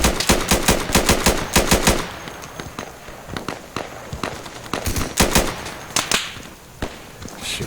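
Gunfire in the tactical shooter Insurgency: a fast burst of loud automatic shots for two seconds, then scattered single and double shots, some nearer and some distant, with no talking.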